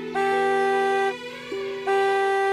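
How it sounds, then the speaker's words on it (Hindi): A car horn honks twice, two bright sustained blasts separated by a short quieter pause, fairly close. "चलो, वरना बरू काका हॉर्न बजा बजा के सारे गाँव के कुत्ते पागल कर देंगे।"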